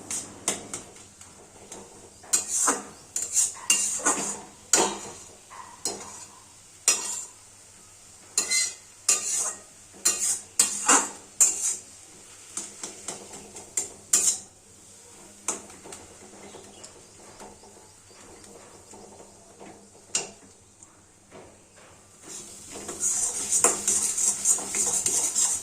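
Kalmi greens, cooked down soft and creamy, are stirred in a cooking pan with repeated close scraping strokes in an uneven rhythm, while a bright sizzling hiss rises at the start and again near the end.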